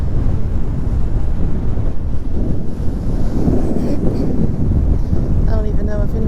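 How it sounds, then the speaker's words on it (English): Heavy gusting wind on Jensen Beach after a hurricane, loud and continuous, pounding the microphone with a low rumbling roar while surf churns underneath. "The wind is blowing very bad."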